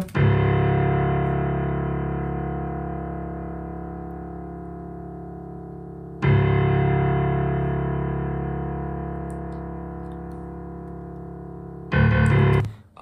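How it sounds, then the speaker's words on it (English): Three low, soft felt piano chords from Kontakt's Noire Felt preset ring out one after another, each decaying slowly over several seconds, with a muffled tone and no voices. "add like some low piano notes and this is what it sounds like"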